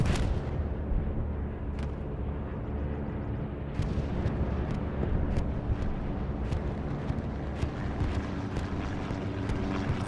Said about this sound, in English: Bombing run coming through.